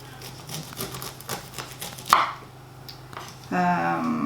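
A knife chops fresh vegetables for chili on a board, several quick cuts followed by a louder chop and a brief clatter, close and clear.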